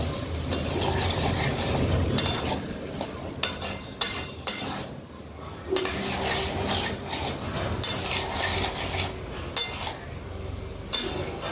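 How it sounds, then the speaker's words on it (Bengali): Green peas, spices and salt are sautéed in a pan over a raised gas flame, with repeated scraping strokes and metallic clinks of a stirring utensil against the pan, up close and without talk. "এবার গ্যাসের ফ্লেমটা একটু বাড়িয়ে দিয়ে মটর কড়াইটার সাথে মশলাটা একটু কষিয়ে নিচ্ছি।"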